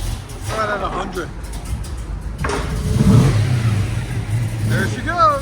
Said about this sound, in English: Nothing beats that classic FLOWMASTER sound.